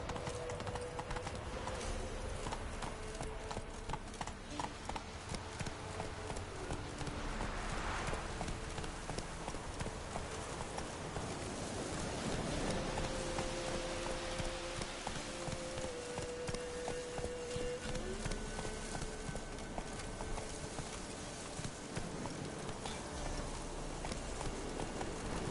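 Horse Roach's hooves beat a steady clip-clop gallop through a video game, loud and continuous across the whole stretch, with occasional game tones and music layered over it.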